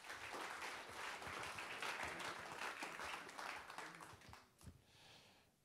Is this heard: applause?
yes